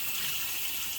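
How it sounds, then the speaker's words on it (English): Cold tap water gushes steadily from a kitchen sink faucet into a plastic bag of baby back ribs, a loud, close, unbroken rush with no voices. "Run some cold water. And just fill the bag up."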